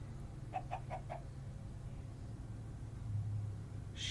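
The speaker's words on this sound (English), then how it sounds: "Oh, it's a chicken." A chicken clucking, four quick soft clucks in a short row, faint behind a low steady rumble, followed by near silence.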